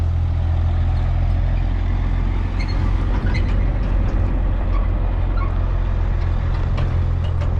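A heavy truck pulling out of a service shop at a stone yard, a steady loud low diesel drone and rumble throughout with faint clanks and rattles on top, no speech.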